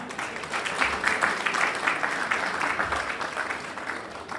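Audience applause for a comedian, a steady patter of clapping from a crowd, moderately loud and continuous with no talk over it.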